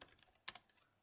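Code being typed on a computer keyboard: a short burst of quiet, close key clicks in two small clusters with a brief pause between, no voices.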